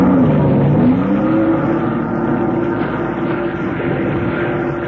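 Boat with twin 230 horsepower Johnson outboard engines roaring to life, a loud sustained motor drone that rises in pitch and settles into a steady, powerful run, close and alone with no talking.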